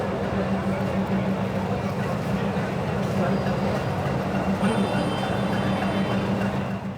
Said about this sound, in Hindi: सिर्फ 15 मिनट बचे और ट्रेन शंट करी जा रही है।